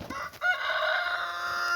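Near a backyard chicken pen, a rooster crows loudly and close while hens cluck alongside, one sustained call that rings out clearly over the flock.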